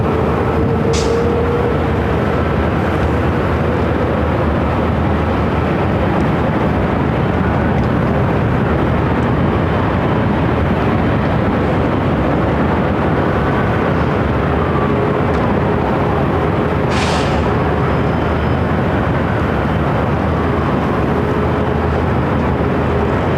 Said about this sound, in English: cleared for takeoff. Korean Air Flight 18 heading back to Seoul.